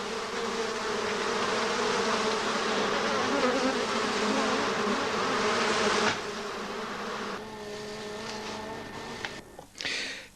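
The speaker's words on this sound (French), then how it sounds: "L'observation de l'activité à l'entrée de la ruche, on dit aussi du trou de vol, peut apporter de précieux renseignements à l'apiculteur." Honeybees buzz at the hive entrance in a dense, steady drone that stays loud for about six seconds, then eases somewhat and thins out toward the end, with no talking.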